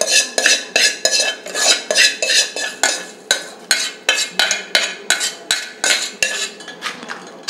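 Dried red chillies, garlic, coriander seeds and cumin are pounded in a stone mortar for mint chutney: a steady series of sharp, close thuds and grinding knocks, roughly two or three per second, with no talking.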